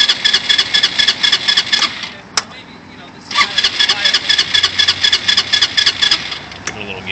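Kandi Viper 250cc tricycle car with a CVT, its small engine running in a fast, pulsing idle that briefly drops away and picks back up, close and loud, with a sharp click between.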